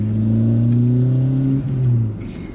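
Hyundai car engine revving hard in second gear, a loud, strained drone that holds steady, then climbs slightly before dropping off, sounding rough enough to throw a rod.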